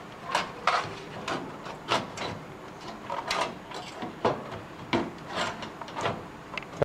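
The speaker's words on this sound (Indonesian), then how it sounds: "Setelah selesai, kita pasangkan motherboard pada tempatnya." Irregular light clicks, taps and scrapes of hardware handling as a motherboard is fitted into a computer case, a dozen or so close, sharp knocks spread unevenly over several seconds.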